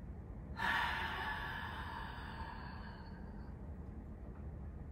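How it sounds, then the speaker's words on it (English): Deep diaphragmatic inhalation during a pelvic floor exercise, a single long, close breath drawn in steadily over a few seconds and gradually fading, with no talking. "So I'm gonna breathe in."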